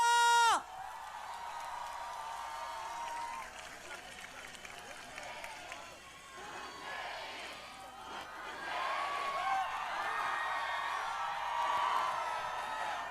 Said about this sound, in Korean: 크게 환영의 박수, 격려의 박수, 우리와 같은 함성으로